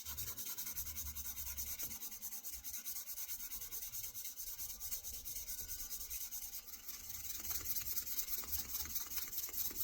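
An old knife blade being sanded by hand, a close, continuous scratchy rubbing stroke that keeps a steady rhythm and grows slightly louder and harsher toward the end.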